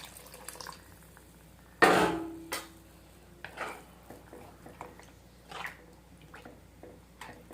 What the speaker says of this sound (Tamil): இப்போ நம்ம தண்ணி ஆட் பண்ண போகிறோம்.